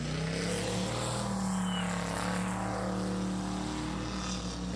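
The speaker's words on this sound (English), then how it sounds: "that whistling that you hear as it goes around, that is the turbos kicking in." A powerful powerboat racing engine drones steadily with a high, thin turbocharger whistle rising over it, loud and sustained without pause, during a boat race.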